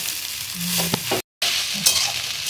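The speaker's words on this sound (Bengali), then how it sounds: "এবার দিয়ে দেবো চাউমিন। এবার এটাকে মিশিয়ে নিতে হবে।" Chow mein with winter vegetables is tossed and mixed in a hot pan, a close sizzle with scraping stirs and a brief silent break midway.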